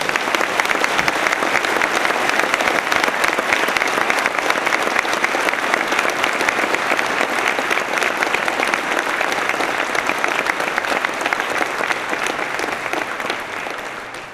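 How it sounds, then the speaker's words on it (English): Long steady round of applause from a large audience at an army change of responsibility and retirement ceremony, dense clapping holding strong before tapering off at the end. "Please join me in a round of applause for Command Sergeant Major Eyer and Regina"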